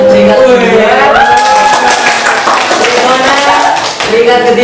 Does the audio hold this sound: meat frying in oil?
no